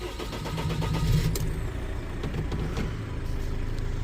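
A tow truck's engine catches and settles into a steady low rumbling idle, heard close and continuous with no talking.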